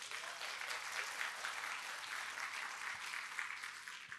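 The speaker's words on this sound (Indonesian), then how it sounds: "Boleh kita beri aplaus buat mereka?" Audience applause fills a church during a worship service, a dense, steady clapping that holds at even loudness for the whole stretch with no voices standing out.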